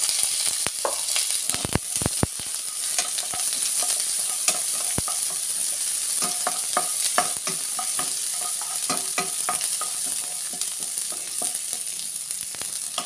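Spices, onion and green chillies frying in hot oil, a loud, steady close-up sizzle with scattered sharp crackles and stirring clinks throughout.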